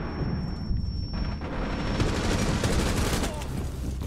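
Dense game gunfire from Rainbow Six Siege fills the whole stretch, a continuous busy clatter of shots and booms with a possible shotgun among them, loud and close, with voices faintly underneath.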